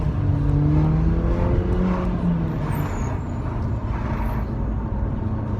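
A Mercedes AMG car's engine drones through an open window from inside the cabin, steady and moderately loud with a falling rev tone early on, no talk.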